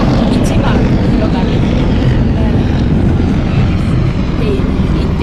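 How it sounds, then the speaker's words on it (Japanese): Steady, heavy mechanical drone of a helicopter overhead, continuous and loud throughout, with no clear beat of individual rotor blades standing out. "これいいでしょう、ヘリの音聞きながら"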